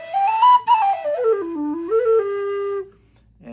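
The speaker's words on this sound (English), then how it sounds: "So this one I gave it a little bit of that chiffy aluminum low whistle sound." A Nick Metcalf aluminum low D whistle, tunable and chiffy, plays a single slow phrase of sustained, breathy notes that rise and then step down before ending, close and clear.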